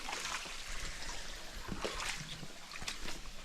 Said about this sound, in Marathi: असं वाहत चाललंय पाणी.